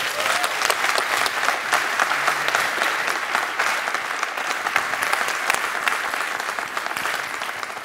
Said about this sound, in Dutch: Mag ik een applaus voor Steffi Vertriest?